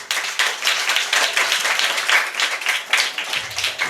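An audience claps at a quiz-show event, a steady, lively patter of many hands with uneven bursts, close and fairly loud, tapering slightly at the end.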